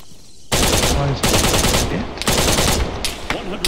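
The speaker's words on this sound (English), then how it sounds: "Yeah, bullets pinging off." Heavy automatic gunfire and bullets pinging off surfaces in Arma 3, loud and close, in several sustained bursts separated by brief gaps, with no talk over it.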